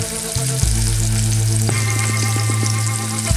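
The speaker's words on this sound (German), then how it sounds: "Schön verrühren, dass sich das Tomatenmark mit den Zwiebeln vermengt." Tomato paste frying with onions in a pot for cabbage rolls, a constant close sizzle with a loud steady hum underneath and light clicks of stirring, no voices.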